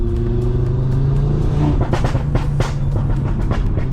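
Loud exhaust of a 2019 Audi RS3 fitted with a Milltek system, revved under light throttle, a steady heavy engine drone with rising rev surges near the mic, no talk over it.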